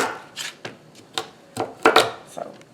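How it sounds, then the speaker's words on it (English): Knife chopping carrots on a cutting board, a string of sharp, uneven chops with short pauses, close and fairly loud, one heavier burst of cuts near the middle. "So we're just going to chop up these 2 bags of carrots."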